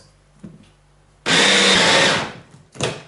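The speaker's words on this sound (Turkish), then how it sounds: "Tabi biz bugün tereyağı yapmak istediğimiz için devam çırpıyoruz." Electric hand mixer whipping cream into homemade butter, a loud steady whirring burst lasting over a second, preceded and followed by quieter clicks and a short second whir.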